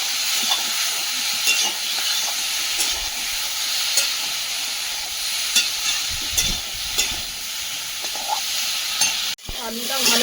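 Large Sundarbans potatoes sauté with spices and a little Kashmiri chilli powder in a pan, giving an even, continuous sizzle broken by scraping stirs and clinks, with no talking.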